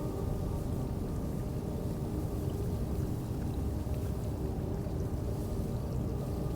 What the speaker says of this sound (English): The sound of water.